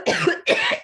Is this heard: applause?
no